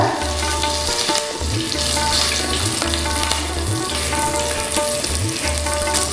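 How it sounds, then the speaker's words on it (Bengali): A bay leaf and three or four slit green chillies hit hot oil as tempering for a light Bengali rohu or katla fish curry, making a loud, steady, close-up sizzle with a pulsing low hum underneath. "একটা তেজপাতা ফোড়নে দিয়ে দিচ্ছি, তিন চারটে চেরা কাঁচা লঙ্কা"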